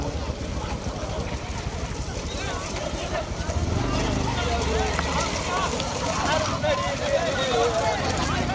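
Bulls' hooves pound over dirt in a small-bull cart race at Veeramangalam, Pudukkottai district, a dense rumble building midway and continuing with crowd noise and shouting voices throughout.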